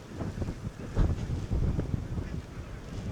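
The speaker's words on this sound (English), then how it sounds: "It is very windy." Strong gusty wind near Caerlaverock Castle, Scotland, buffets the microphone in rumbling, uneven bursts, loud and close, with no voices.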